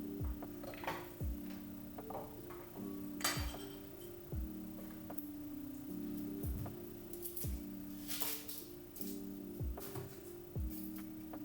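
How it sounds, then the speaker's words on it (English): Knife cutting a vegetable into thin rings on a board, a series of quiet, evenly spaced thuds and clicks with faint kitchen clatter between them, heard close by. "We're just going to slice it thin rings"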